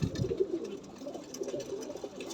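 Low, gentle coos come from a nearby high-flying pigeon, a faint run of rolling calls that continues steadily with nothing else over it.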